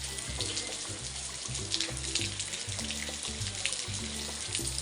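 Heavy monsoon rain pours in a steady, dense, roaring hiss that never lets up, with a low rumbling underneath and no voices.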